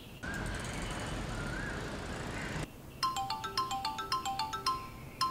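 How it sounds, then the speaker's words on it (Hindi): Mobile phone ringtone rings unanswered, a bright repeating electronic melody of quick pulsing notes that starts after a stretch of steady background noise, moderately close. "फोन क्यों नहीं उठा रहे?"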